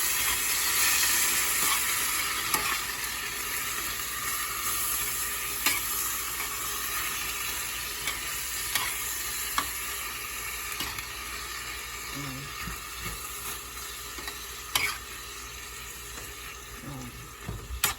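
Banana heart simmers in coconut milk in a pan, giving a steady soft bubbling sizzle with occasional scrapes and clinks from stirring, fairly close.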